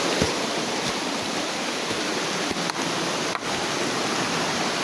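Aparaiso Tublihon Falls gives a steady, loud, broadband rush of falling water, constant and close throughout with only faint brief knocks.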